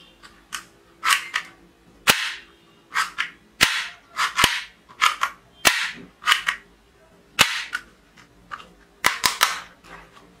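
A small plastic toy Band-Aid ball gun snaps off a rapid, irregular string of sharp little pops and clicks, close by and alone with no talking.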